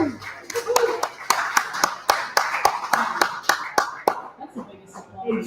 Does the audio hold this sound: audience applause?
yes